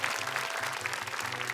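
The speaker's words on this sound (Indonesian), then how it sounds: "Tepuk tangan dong buat anak-anak dan juga para orang tuanya luar biasa" A television studio audience at a children's Quran recitation competition applauds the young contestants and their parents, a steady moderate patter of clapping with a soft musical bed underneath.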